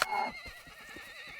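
A horse in the Rising World video game lets out a brief, high whinny that fades into soft snorting and low rumbles.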